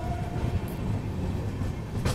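At Bidar station, a train rumbles steadily on the tracks, a low continuous rolling drone with a brief higher hiss near the end and no voices.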